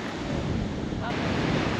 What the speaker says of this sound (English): to see the big waves there